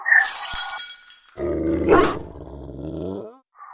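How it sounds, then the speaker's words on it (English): Guard dog growling in a Lovecraftian mutant creature setting: a deep, rough snarling growl rising to a roar after a sharp glassy crash, loud and close with no talk. "That must be the guard dog."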